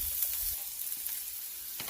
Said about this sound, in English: I'm adding just about a teaspoon of the grounded jeera, some extra flavor, and stir.